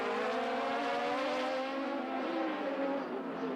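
Atlantic race cars pass during the 1990 Trois-Rivières round, a steady, loud engine drone whose pitch sags slowly as the pack goes by. No voices are heard over the noise.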